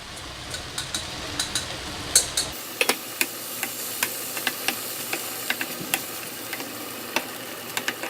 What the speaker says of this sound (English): So now it's time to add in the tomato chickpea mixture.